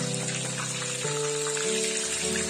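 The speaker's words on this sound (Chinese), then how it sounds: "开火热油，八个鸡腿我分两次炸，鸡腿都放进里面之后就转中火" Eight chicken drumsticks coated in turmeric fry in hot oil over medium heat, giving a continuous dense crackle and sizzle, close and fairly loud, with a steady hum underneath.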